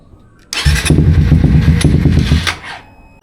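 A Suzuki GSX 150 with an aftermarket exhaust on its stock ECU cranks loudly for about two seconds with a rapid, stuttering churn but fails to catch, then falls silent.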